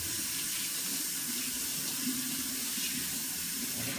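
Steady running water from a kitchen tap as hands are washed, a constant close hiss and splash that continues unbroken and alone.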